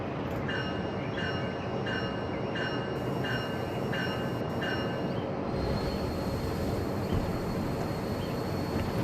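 A train in the Rail Sim Universe video game rumbles steadily with loud, continuous rolling noise. A faint repeating chime sounds early on and then stops, while the rumble continues throughout.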